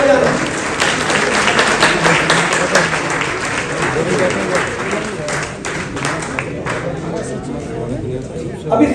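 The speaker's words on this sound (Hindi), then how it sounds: "एक बार ताली बजाना।" Audience applause at a Hindu Yuva Vahini Sanatan Margdarshan Mahotsav gathering, welcoming a guest; loud, dense clapping from a large crowd with background chatter, sustained and slowly thinning toward the end.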